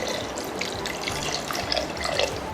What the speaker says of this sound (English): I'm going to add in some water